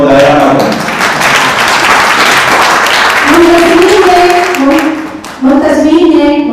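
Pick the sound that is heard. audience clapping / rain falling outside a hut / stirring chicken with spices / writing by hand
audience clapping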